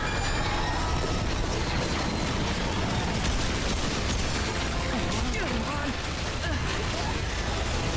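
Dense, continuous gunfire and clattering action in the shooter game Remnant 2, a constant loud barrage with mechanical rattles layered throughout and no pauses.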